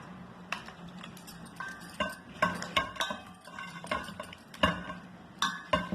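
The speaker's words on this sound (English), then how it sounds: "Let us add in the ginger tamarind pickle paste." Ginger tamarind pickle paste stirred in a pan of cooled tempering, with a metal spoon scraping and clinking against the vessel in repeated close strokes.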